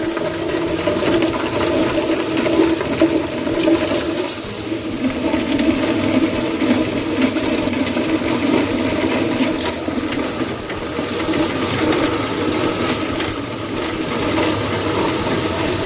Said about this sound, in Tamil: இப்போ ரெண்டத்தையும் கிரைண்டரை ஆன் பண்ணி மிக்ஸ் பண்ண போகிறோம்